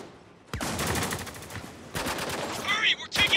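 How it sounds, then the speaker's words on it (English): Gunfire in the war shooter game Spec Ops: The Line, dense bursts of rapid shots filling most of the stretch, loud and close, with brief pauses and a shouted voice near the end. "We're taking heavy fire!"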